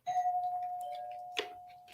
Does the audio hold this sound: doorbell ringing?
yes